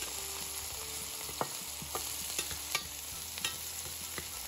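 Onion and cumin fry over medium heat in a pan while being stirred slowly, making a soft, even sizzle with occasional spatula scrapes and taps at close range, with no talk.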